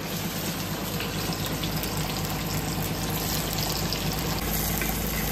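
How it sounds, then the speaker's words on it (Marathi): Chopped onion frying in hot oil in a pan for egg bhurji, a steady dense sizzle that holds evenly and close throughout with no talking. "आता त्याच्यावर फर्स्ट आपण कांदा टाकतोय."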